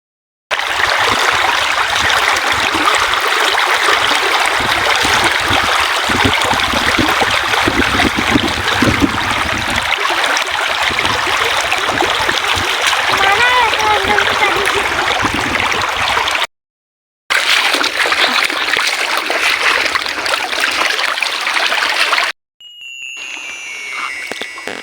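River water flows and splashes steadily at a riverbank while clothes are washed, a continuous loud rushing that breaks off briefly and then resumes more faintly at the end.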